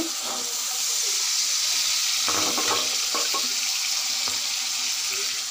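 Peas tipped into frying masala in a pan set off a loud, continuous hiss and crackle, with bursts of louder sputtering as they hit the hot spices.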